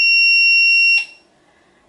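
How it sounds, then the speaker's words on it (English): A Narda Nardalert XT with a hardware fault sounds a loud, continuous high-pitched electronic tone that holds steady for about a second, then stops sharply, leaving near silence. "you end up with a continuous tone with all the LEDs lighting up like this"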